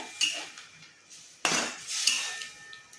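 A lid goes onto a cooking pot with a sharp metallic clank near the middle, followed by lighter rattles and clinks of cookware; the pot holds a Bengali prawn dish with bottle gourd greens, cooking in water.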